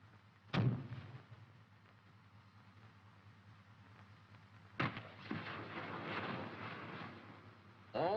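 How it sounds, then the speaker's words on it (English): Rockets launch from a full salvo of eight: a sharp blast, then another about four seconds later that rolls into a long, rumbling roar under a steady low engine hum, heard from a distance. "A full salvo is selected. The pin is removed from the firing switch. The fire switch is activated."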